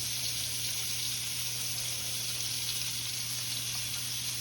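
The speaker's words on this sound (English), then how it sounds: "I'm gonna get all my onions here sauteed off" Onions sauté in a skillet with the fond left from seared ground beef steaks, making a steady, moderate sizzling hiss over a low hum, with no speech.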